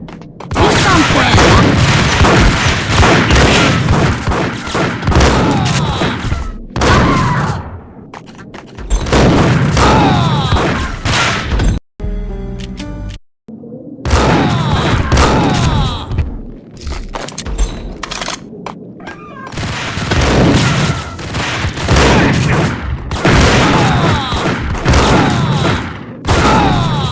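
Loud booming gunfire and heavy thuds from the action game Max Payne Mobile fill most of the stretch in dense bursts, broken by two short near-silent gaps, with occasional voices mixed in.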